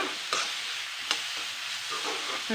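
Brinjal pieces frying in oil for a rice dish, with a steady, close hiss and crackle of oil broken by a couple of faint utensil taps.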